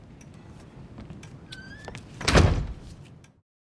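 A door closing in GTA 5 at a psychologist's office, with soft movement and faint creaks building to one solid thud, followed by a short fading tail into silence.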